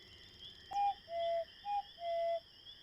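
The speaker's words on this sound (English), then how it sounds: "Garrett didn't seem to hear Lilli's owl call at all." In the Edna and Harvey: Harvey's New Eyes point-and-click game, a hoot-like owl call signal plays as four clear whistled notes, short-long-short-long, over a quiet hum.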